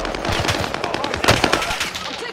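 Rapid automatic gunfire in a first-person shooter video game crackles continuously, loud and close, a dense rattling stream of shots with sharper bursts throughout.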